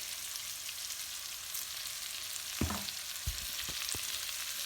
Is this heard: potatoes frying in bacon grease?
yes